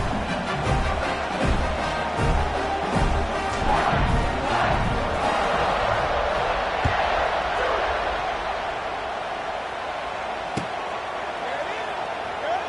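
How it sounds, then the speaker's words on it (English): Stadium crowd in an American football video game, a dense, continuous roar of cheering with thumps and shouts, loud and steady throughout while a commentator's voice talks over it. "this crowd is buzzing after that last score"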